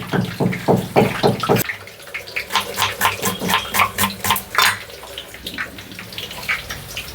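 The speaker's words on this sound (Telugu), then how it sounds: "ఇప్పుడు దీంట్లో కొంచెం నీళ్ళు పోసేసి" Water poured into a cooking pot in a cloud kitchen, heard as a series of splashing pulses and gurgling bursts, close and fairly loud, with a rhythmic run of pours through the middle.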